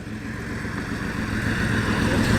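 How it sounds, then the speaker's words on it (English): A Porsche 964 flat-six engine idles with a steady, low rumble, continuous, even and slightly rising in loudness, with no talking over it. "What a great idle that flat 6 has."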